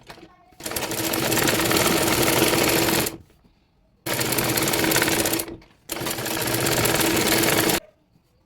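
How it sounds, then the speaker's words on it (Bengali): A sewing machine stitching the facing of a baby dress runs in three loud, steady bursts of rapid mechanical chatter, each a couple of seconds long, separated by short pauses. "দেখুন বন্ধুরা, সামনের পাটের ফলসটি এবার সেলাই করে নিচ্ছি।"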